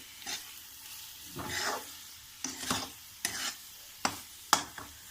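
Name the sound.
boiled meal maker soya chunks added to curry pan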